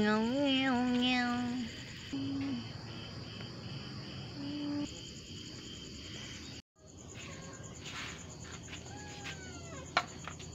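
A cat meows several times in drawn, wavering cries early on, then quieter mews recur later, set against a steady high chirring of crickets and insects in a quiet outdoor night.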